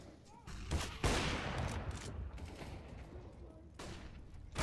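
Counter-Strike GO match gunfire, a series of sharp shots and bursts at moderate level, with background game noise and a voice-like sound in the mix.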